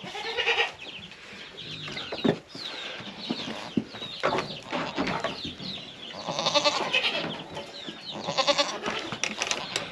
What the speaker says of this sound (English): All right, so I'm gonna get these goats fed,